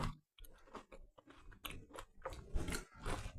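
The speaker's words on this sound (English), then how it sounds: "I'll take a little bite if it don't burn me" Hot blackberry and coconut crumble from an air fryer, golden brown and slightly crunchy, bitten into and chewed close to the microphone with soft, moist crunches and mouth sounds in a steady rhythm.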